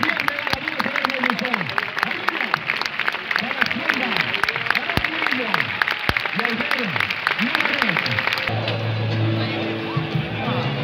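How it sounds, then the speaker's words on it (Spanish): Crowd ovation at a street contest in La Vall d'Uixó, sustained clapping and crowd noise with a commentator's voice running over it, fading out near the end. "Ovación de gala, ovación."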